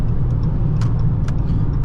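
A 2021 Dodge Charger R/T accelerates onto a freeway, its engine a steady, loud low rumble heard from inside the cabin, mixed with road and tire noise and no talking.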